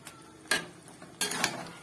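Mixed vegetables being stirred in a pan over a raised gas flame: two short bursts of scraping and clattering utensil against the pan, near and moderately loud, with quiet gaps between and no talk.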